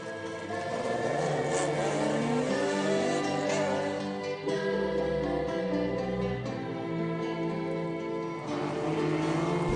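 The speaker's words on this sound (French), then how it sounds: "L'occasion de rouler comme ça sur des routes fermées avec des voitures de course" Race cars at full throttle on roads closed for a rally stage, engines revving hard and continuously, loud and close, with pitch rising and falling through gear changes.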